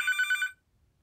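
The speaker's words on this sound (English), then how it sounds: "It's the phone." Telephone ringing in the Papa's Bakeria video game, a single short trilling ring that pulses rapidly for about half a second and then stops, fairly quiet and alone.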